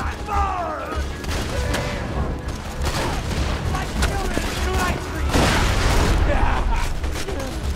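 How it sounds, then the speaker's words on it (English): Many grenades going off in rapid succession during a Borderlands 2 firefight, a dense run of loud booms and crackling blasts with gunfire mixed in, while players talk over the chaos. "Oh, that's a lot of grenades going everywhere."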